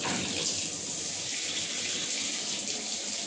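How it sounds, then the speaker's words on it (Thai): Water runs steadily from a faucet just fitted with a new valve washer, a continuous close hissing stream with no break and no voices. "น้ำไหลครับ"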